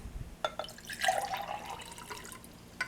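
Water at about 22 °C is poured into a drinking glass: a short splashing pour with a rising fill tone, starting with a few drips and ending in a faint trickle, close by and quiet.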